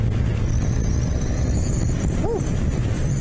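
Kawasaki ZXR motorcycle with a five-speed gearbox ridden at about 70 mph: a steady low engine drone and rushing wind noise fill the whole stretch, loud and close, with no talk.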